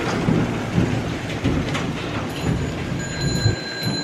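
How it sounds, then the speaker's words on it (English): Thunderstorm with hail pelting a window, a dense steady roar of rain and ice with low rumbling surges throughout, loud and close, with no voices. "It's like hail hitting the window."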